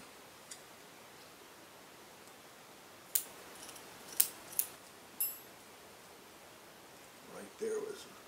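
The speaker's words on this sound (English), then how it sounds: "I think probably the easiest way is just to use a scissors." Scissors make a few sharp, quiet snips while cutting into a timber rattlesnake during a necropsy, spaced irregularly over a faint hiss, with soft handling noise at the end.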